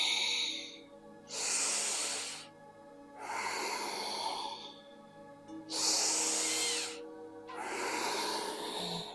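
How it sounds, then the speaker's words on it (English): Slow, deep breathing in and out through the nose during a Kundalini yoga session, each long airy inhale and exhale close and clear, about four breaths in a steady rhythm. "In the nose as we breathe in, expansion, out the nose as we round"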